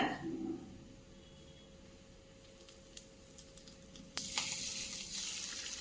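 Hot tempering of mustard seeds, urad dal and asafoetida is poured into a sago and semolina batter. A faint, quiet sizzle builds into a sudden louder hiss near the end.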